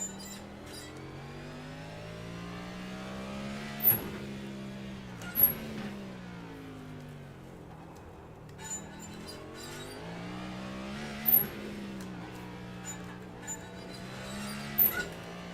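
Race car engines in the iRacing video game at Chicago drone and whine in shifting pitch, rising and falling as several cars run together, with a few sharp clicks and bumps along the way.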